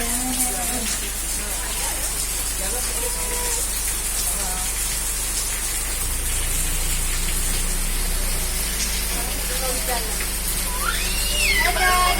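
Steady rain falls throughout, a dense, constant hiss on the surfaces around, with voices talking over it now and then.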